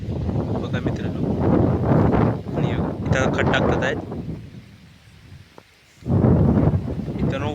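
Strong gusts roar into the microphone over rain-soaked farm fields in Konkan during a monsoon storm, loud rumbling bursts that drop briefly near the middle, while someone talks over them.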